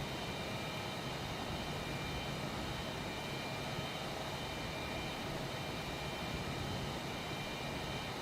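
An airplane in a flight simulator game drones with a steady, broadband engine and wind roar, constant and unchanging throughout with no voices.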